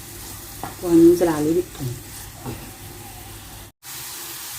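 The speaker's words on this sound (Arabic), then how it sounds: "كده شكل البصل في الزيت، مش هنديله تحميره جامده يعني، دوب بس كده يدبل" Onion frying gently in oil, a soft steady sizzle that runs under a person talking, with a brief dropout near the end.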